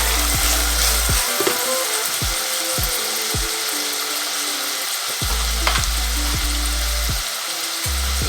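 A bay leaf and about six cardamom pods fry over medium heat in a pan for chickpea curry, giving a steady hiss punctuated by regular scraping strokes of a spoon.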